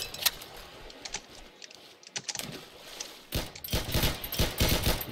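Minigun fire in a video game: scattered early bursts give way to a dense, rapid stream of shots in the last couple of seconds, moderately loud and with no talk.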